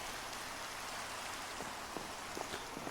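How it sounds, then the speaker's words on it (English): Steady hiss of rain falling in a block-building survival video game, an even, continuous wash with faint scattered drop ticks and no talking. "And it's raining."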